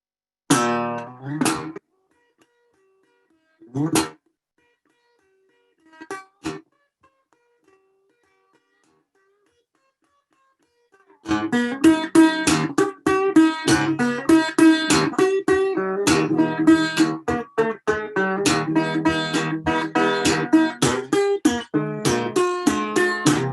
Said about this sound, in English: raw, rough, guttural, kind of stark and really percussive playing